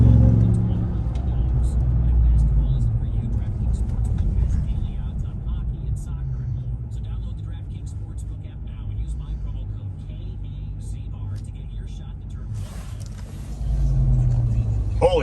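Ram TRX pickup truck launching hard in launch mode, a deep sustained engine rumble and roar that swells at the start and again near the end, heard from inside the cab.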